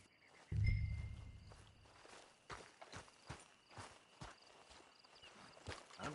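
Horse hooves in Red Dead Redemption 2, a slow, even clip-clop of walking steps, moderately near and fairly quiet, after a brief low thump at the start.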